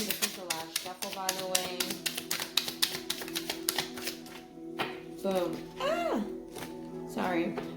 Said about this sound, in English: This is the last shuffle, by the way.